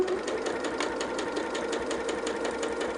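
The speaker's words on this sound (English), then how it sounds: "I'm just stitching right sides together with that 1/4-inch seam." A sewing machine stitches fabric right sides together with a quarter-inch seam at stitch length 2.6, adding a quilt border; a fast, even mechanical chatter runs throughout without talking.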